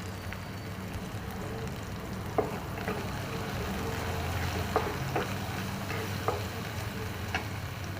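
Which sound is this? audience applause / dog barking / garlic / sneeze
garlic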